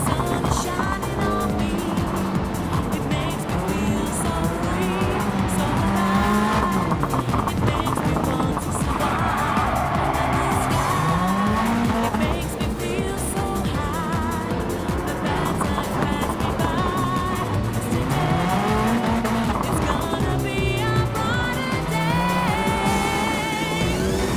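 Rallycross race cars sliding and flicking through corners on a mixed surface, engines revving and rising in pitch continuously at close range under a dense, loud roar with no talking.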